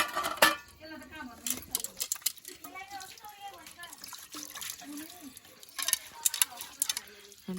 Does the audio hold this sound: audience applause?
no